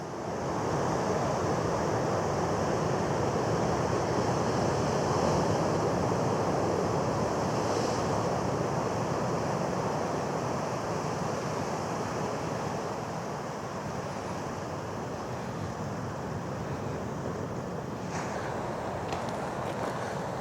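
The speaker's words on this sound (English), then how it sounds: "We have some pretty big waves." Big ocean waves crash along the coast at Sele Harbour in a continuous, loud, wash-like roar, with gusty wind buffeting the microphone throughout.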